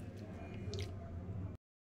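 Cooked brinjal and potato being mashed for a lentil-free sambar, giving soft wet squishing and squelching sounds close up for about a second and a half before cutting off.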